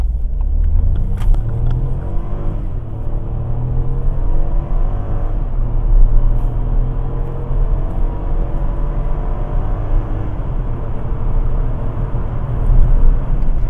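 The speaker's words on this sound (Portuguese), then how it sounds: "teste de 0 a 100 com o New Fiesta com motor EcoBoost" A Ford Fiesta 1.0 EcoBoost turbo accelerating hard from 0 to 100 km/h: loud, steady engine drone rising in pitch through the gears with brief shift dips, heard from inside the car with no talk.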